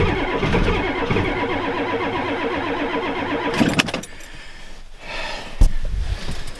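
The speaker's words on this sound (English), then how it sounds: "She cranks over fast now." A Ford F250 with a 7.3 IDI diesel engine cranks over rapidly on a cold start after a shot of ether, a loud, steady rhythmic churning for about four seconds that stops, followed by quieter clatter and a sharp knock.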